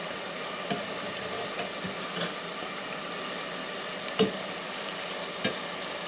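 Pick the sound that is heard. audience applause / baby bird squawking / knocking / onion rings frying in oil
onion rings frying in oil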